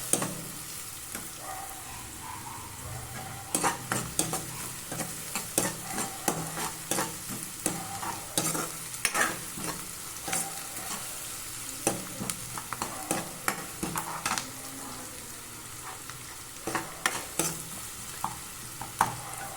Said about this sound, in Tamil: வெங்காயம் நல்லா வதங்கிச்சு.